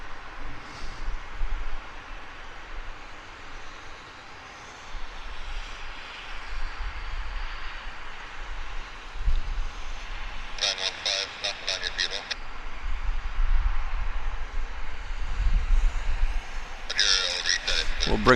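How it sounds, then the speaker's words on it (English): A Q400 turboprop airliner climbs out from Vancouver Airport, its steady engine roar rumbling at a distance beneath ongoing outdoor ambience, with bursts of nearby noise cutting in twice. "So this Q400's heading to Cassidy Airport in Nanaimo."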